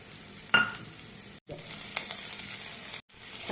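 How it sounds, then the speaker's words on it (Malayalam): Onion and carrot are sautéed in a pan, giving a close, crackling sizzle with stirring scrapes and two brief silent gaps. "ഒരു മുറി സവാള ചേർത്ത് കൊടുക്കാം. വഴറ്റിയെടുക്കാം."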